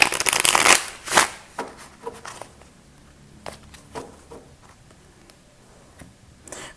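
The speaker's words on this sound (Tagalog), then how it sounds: "babalasahin ko lang po ng maigi yung mga baraha bago po tayo magsimula" Close, crisp riffling of a tarot deck in a loud burst, then a few softer shuffles and scattered taps and clicks against a quiet background.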